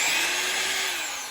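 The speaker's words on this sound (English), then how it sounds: "Now we need to unscrew the little pump here." Power tool whirring steadily while unscrewing the pump from a washing machine being disassembled, close and fairly loud, with a slight pitch drop toward the end.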